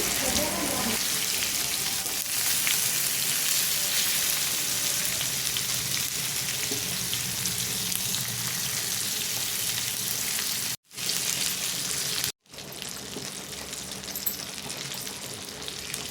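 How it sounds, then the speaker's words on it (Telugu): Fish pieces fry in hot oil and are turned over, giving a steady, close, full sizzle that continues throughout with two very brief breaks near the end. "ఇలా ముక్కలన్నిటినీ టర్న్ చేసుకోవాలి టర్న్ చేసుకొని ఇలా తిప్పుకుంటూ ఫ్రై చేసుకోవాలి"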